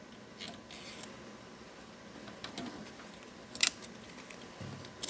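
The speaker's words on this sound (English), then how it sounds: "you'll want to cut the end off just to have a nice, fresh, clean end that's not all bent up" Cutters snip the bent end off a brand-new roll of welding wire for a YesWelder Firstess DP200 welder, one sharp, close click standing out among faint handling noises in a quiet room.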